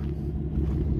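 A New Holland C238 compact track loader idles steadily, a low diesel rumble with a constant droning hum and no other sounds.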